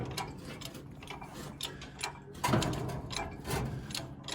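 A jack is pumped repeatedly to lift a 440 big block engine out of a 1969 Super Bee, giving a regular mechanical clicking and ratcheting rhythm close by, with a louder clunk midway.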